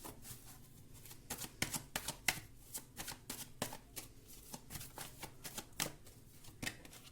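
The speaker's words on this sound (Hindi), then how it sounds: "एक और कार्ड निकालते हैं।" Tarot cards shuffled by hand close up, giving a string of sharp, irregular papery slaps and riffles with short pauses between bursts, alone with no talking.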